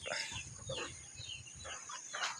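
Chickens cluck repeatedly at a moderate distance, short choppy calls coming in uneven bursts over a steady outdoor hiss.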